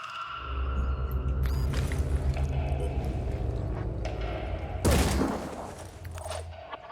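A big gun fires in Phoenix Point as a rumbling barrage of heavy booms and rattling impacts, loud and sustained for several seconds with a sharp burst near the end before fading.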